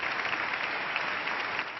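Warm, sustained ovation applause for the prince from a large standing crowd, a dense steady wash of many hands clapping at even loudness throughout, with no voices over it.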